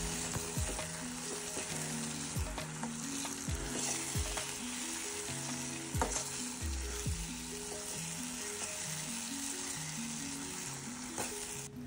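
Potatoes fry and are stirred in oil-roasted masala in a pan, sizzling steadily and close by, with repeated scraping stirs throughout and no voices.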